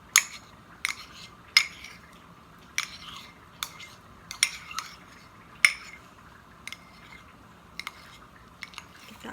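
Metal utensil clinking and scraping against a pan while garlic is stirred into a spaghetti bolognese sauce, in sharp, irregular taps spaced across the clip with little else around them.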